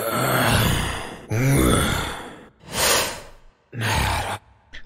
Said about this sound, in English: And these are breaths and whispers.